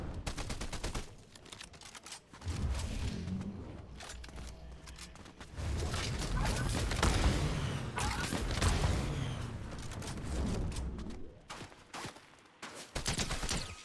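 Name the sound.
AI enemy gunfire in Fortnite video game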